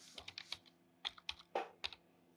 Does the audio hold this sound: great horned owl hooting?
no